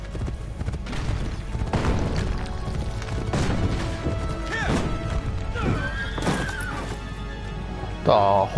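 A horse in the Assassin's Creed Brotherhood video game gives a whinny in a few rising and falling cries over a steady battlefield din of thuds and crashes. A voice speaks briefly near the end.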